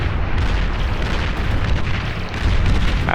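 Units exploding in the strategy game Beyond All Reason, a loud continuous rumble of overlapping blasts and booms with bursts of crackle, no speech.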